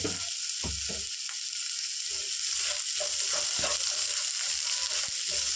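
Ground spices such as coriander powder frying in a pan, a steady close sizzle throughout with scattered soft scrapes and stirring knocks.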